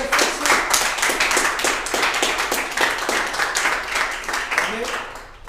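A church congregation claps loudly in a steady, dense rhythm for several seconds, crisp hand slaps close by and filling the room.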